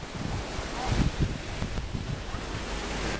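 Sea waves wash onto the beach at Tuxpan, Veracruz, a steady loud surf roar with wind buffeting the microphone throughout.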